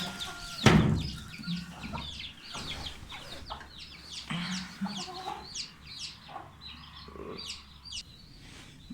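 Chickens cluck and chatter inside a coop during morning chores, several birds close by making repeated short calls in an uneven rhythm, with occasional rustling and handling noises.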